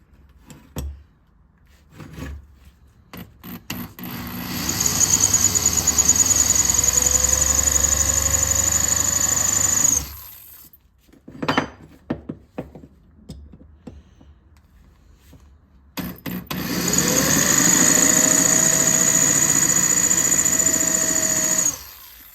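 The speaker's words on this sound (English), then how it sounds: "I'm just going to work my drill bit here." Power drill working a bit into a motorcycle brake pedal on a 2009 Police Special, running in two long sustained bursts with a steady whine, separated by a few seconds of handling noises and clatter.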